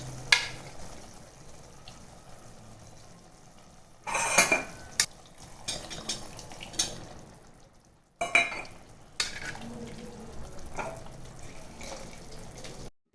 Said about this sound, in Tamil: இப்போ வேக வச்ச சென்னாவை அதில் சேர்த்துக்கலாம்.